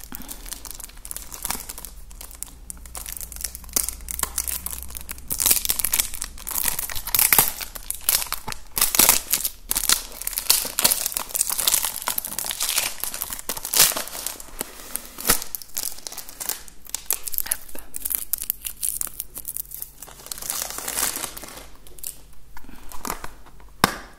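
Close, crisp crinkling and tearing of paper and plastic as a birthday gift package is unwrapped and opened, in busy irregular bursts with brief pauses, in a quiet room.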